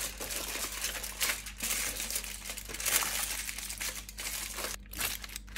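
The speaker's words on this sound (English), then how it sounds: "So let me just grab some foil." Aluminium foil for wrapping a meatloaf is grabbed and crinkled by hand on a kitchen worktop, a loud, close, continuous crackling and rustling with no talk.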